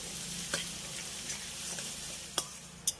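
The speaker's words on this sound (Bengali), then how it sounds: "এবার পেঁয়াজটাকেও আমি খুব ভালো করে ভেজে নেব।" Finely chopped onions fry in a pan with a steady, soft sizzle. A few sharp spatula taps and scrapes cut through the frying.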